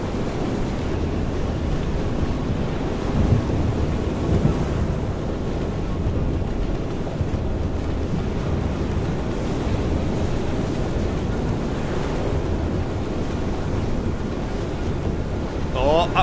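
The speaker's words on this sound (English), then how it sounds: "Love to be out on a stormy sea." Stormy sea in the video game Far: Changing Tides: a steady, dense roar of wind, surf and rain with low rumbles of thunder rolls on without pause.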